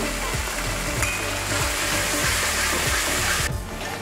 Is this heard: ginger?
yes